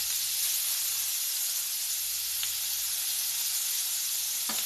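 Onion and peppers sizzle in a pan, a steady bright hiss of frying that holds evenly throughout, close and moderately quiet, with a faint clink or two.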